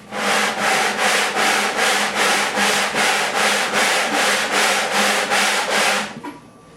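Guitar sides are rubbed back and forth on a sanding board, about a dozen steady, even strokes of loud, close, abrasive hiss in a regular rhythm, followed by quiet.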